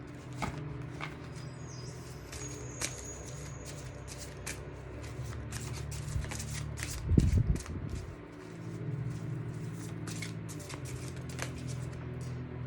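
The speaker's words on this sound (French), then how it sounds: "Je vais tirer maintenant une carte pour le lien" A deck of oracle cards is shuffled by hand before a single card is drawn, with a steady run of crisp riffling flicks close by, a soft thump midway and brief rustles.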